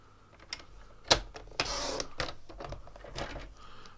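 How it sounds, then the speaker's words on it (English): A paper trimmer slices a half-inch strip of cardstock, making a close, brief scraping swipe among light handling clicks and taps, with no speech. "I'm going to grab my trimmer, and I'm going to use my new it's my new favourite tool"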